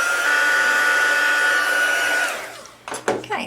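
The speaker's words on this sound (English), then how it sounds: "you'll see it once I use my heat tool on it." A heat tool blowing hot air to melt embossing powder on a handmade card, giving a loud steady whirring blast for about two seconds before it winds down, followed by a few light handling knocks.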